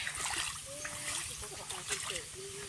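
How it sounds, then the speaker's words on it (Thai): Cool water flowing in a forest stream where people gather bamboo shoots, a faint, gentle trickle and splash heard under people talking nearby. "น้ำไหลเย็นเย็น"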